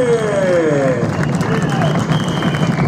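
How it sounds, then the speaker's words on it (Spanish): A dense crowd claps and cheers at a carnival parade (corso) in San Pedro de Jujuy, with a steady wash of applause and babble held loud and close throughout, voices mixed in. "¡Fuerte los aplausos!"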